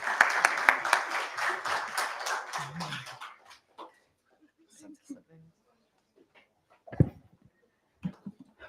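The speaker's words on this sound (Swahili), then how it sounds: "Makofi kwake." Applause from an audience at an arts event in Meru, a dense burst of clapping for the first three seconds that then fades into scattered light sounds and quiet.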